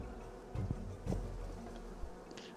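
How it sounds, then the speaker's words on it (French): Bees buzz in the video game World of Aria, faint and close, with a couple of brief louder passes over a soft low background hum and no talk. "Vite, trouvons quelque chose pour attirer les abeilles sur eux."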